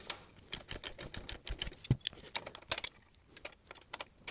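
A wrench works an exhaust manifold nut tight on a Triumph TR4 engine, giving a close, irregular run of sharp metallic clicks and clinks, some rapid and some spaced apart, with brief pauses between strokes.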